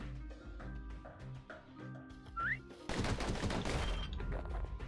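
Rapid gunfire from a video game, starting abruptly after a stretch of quieter game sounds and continuing as a loud, dense burst of shots to the end.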